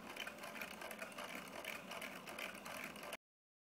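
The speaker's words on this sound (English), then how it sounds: "The CNC needs 20 minutes to cut this 6 cm disc." A low-power hobby CNC router cuts a 6 cm disc, giving a steady close whine and whir with a gritty, slightly pulsing texture that stops abruptly at the end.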